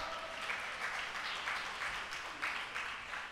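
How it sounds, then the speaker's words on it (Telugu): A church congregation clapping loudly during a Holy Communion service, with steady rhythmic applause from a crowd, heard somewhat distant. "గట్టిగా చప్పట్లు కొట్టండి"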